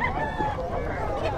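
Chickens and roosters at a Philippine pet market cluck and call close by, a continuous busy stretch of fowl voices over crowd noise.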